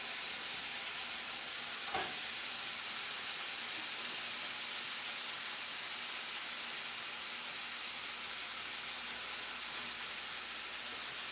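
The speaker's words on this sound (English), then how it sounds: "That's a nice sizzle." Bacon sizzling in a hot frying pan, a steady, dense crackling hiss that holds evenly throughout, with a single louder pop early on and no talking.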